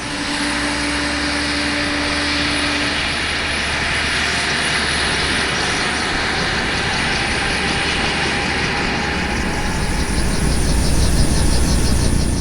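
A Bell Cobra helicopter turbine engine spools up toward ground idle, a loud, steady roaring whine with a high-pitched tone holding throughout and the roar swelling slightly near the end, close by and with no talking.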